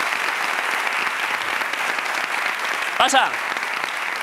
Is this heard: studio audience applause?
yes